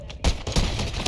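A short burst of zombie video game gunfire comes as a few rapid, close, loud shots in quick succession, with no voices.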